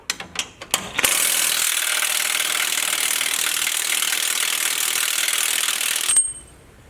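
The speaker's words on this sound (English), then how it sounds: "So I'm gonna go ahead and take all the bolts out." A ratchet on an extension loosening bolts on a Jeep JLU: a few short clicks, then a long, loud, continuous rapid ratcheting buzz lasting about five seconds before stopping abruptly, close up with no talking.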